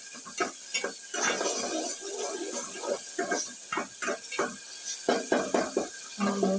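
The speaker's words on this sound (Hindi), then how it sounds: "साथ साथ भून रहे हैं।" Moong dal and rice roasting in a pan for moong khichdi, stirred with repeated scraping strokes and a soft dry sizzle, close and fairly quiet, with no talking.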